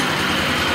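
A Predator 212cc small engine swapped into an antique tractor fires and runs with a steady, loud, broadband mechanical roar throughout, close by with no talking.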